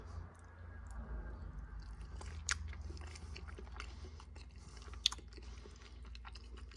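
Someone eats microwaved sheets of pasta with sauce and real cheese, making soft, faint chewing and munching sounds over a steady low background hum, with a couple of sharper crunchy bites.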